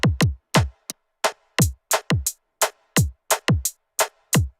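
Hi-hat samples from an Elektron Model:Samples groovebox play as about a dozen crisp, clean hits in an uneven rhythm, each sharp and short with dead silence between them.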